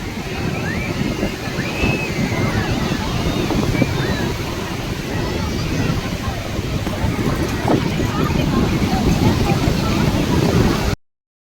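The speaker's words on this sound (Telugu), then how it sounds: "పెద్ద పెద్ద అలలు వస్తున్నాయి" Ocean waves roll in at Marina Beach in Chennai, a steady roaring surf with wind rumble and crowd chatter close by.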